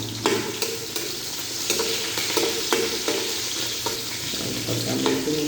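Garlic and chili frying in a pan, a steady close sizzle with repeated quick scrapes and taps of a utensil stirring through the oil.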